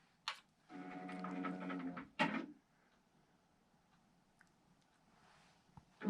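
A computerized sewing machine runs a short burst of stitching on a quilt border, a quiet whirring for about a second between small clicks and knocks, in an otherwise quiet room.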